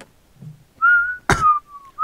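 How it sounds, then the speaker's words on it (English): A person whistles a few clear, sustained notes close by, with short breaks and a sharp knock in between, alone against near silence. "I can't whistle in peace?"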